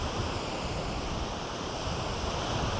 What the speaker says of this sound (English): I'm gonna miss the ocean.